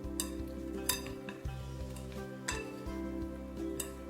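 Stirring white vinegar and sugar together in a bowl for sweet-and-sour radish, a steady run of light clinks and scrapes from the utensil against the bowl, close and alone without talk.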